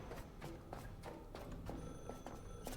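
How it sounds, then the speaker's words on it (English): An old telephone rings in The Last Caretaker video game, a repeated bell-like trill in a steady pattern, loud and close over a constant background hum, with no talking. "Phone ringing?"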